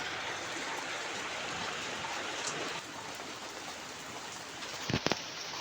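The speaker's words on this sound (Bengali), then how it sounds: "প্রচুর বৃষ্টি হচ্ছে।" Heavy rain falls steadily outdoors, a dense, even hiss that lasts the whole time, with a couple of brief knocks near the end.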